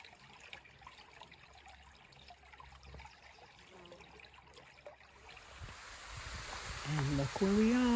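Water at Fern Falls in a redwood forest trickles and flows softly in the background, a faint continuous splashing that swells louder toward the end, where a voice briefly speaks.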